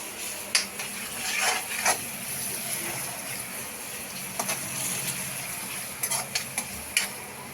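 Onions and tomatoes sizzle steadily in a pan for pav bhaji while a spoon stirs through them, with a few scraping knocks against the pan close by.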